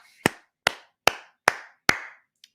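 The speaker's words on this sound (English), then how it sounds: "Round of applause" Five sharp, evenly spaced hand claps ring out close and alone, followed by a faint sixth tap, a small solo round of applause during a live stream.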